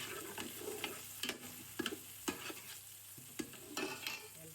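Garlic sautéing in a pan for sinampalukang manok, a soft sizzle broken by repeated scraping strokes of a spatula stirring at an uneven pace, faint and close.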